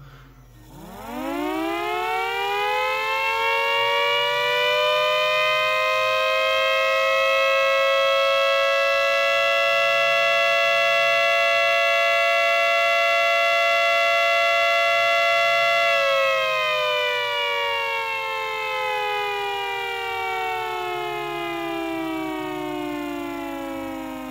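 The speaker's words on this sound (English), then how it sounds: "you probably want to hear the siren, not so much me talk anymore" A homemade mini siren winds up from a low growl to a loud, sustained rising wail, holds steady, then slowly winds down, alone and close with a faint rhythmic mechanical chop underneath.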